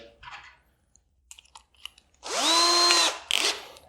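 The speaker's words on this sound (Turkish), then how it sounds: "matkap ucuyla çalışırken cam çok kaygan bir yüzey olduğu için kayma ihtimali çok fazla" A few faint taps and scrapes, then a loud power drill whines up to a steady high-pitched grind for about a second before cutting off, drilling into a glass bottle.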